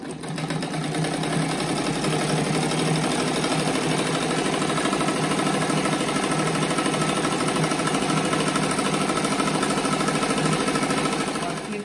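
A sewing machine stitches a seam on a fabric rug with a fast, steady mechanical rattle that runs without a break, loud and close.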